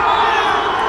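Crowd cheering at a high-school football championship game after a touchdown, a brief dense burst of loud roaring voices.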